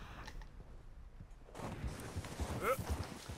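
Horse hooves clip-clopping in the western game Red Dead Redemption 2, a faint walking rhythm that grows louder after a quiet start, with someone talking over it.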